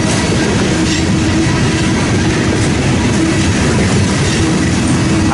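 A long freight train rolls past close by with a mid-train DPU and manifest cars, a loud, continuous roar of wheels and rattling cars with steady clickety-clack and faint wheel squeal, no voices.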